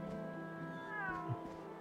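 A cat meows in the video game Drakensang, a single drawn-out, clear meow heard alone and close.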